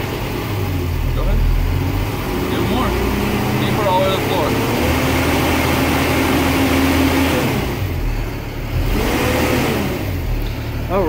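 A 2017 car's engine runs with a steady mid-pitched hum and rises as the throttle is revved, close and loud under talking voices.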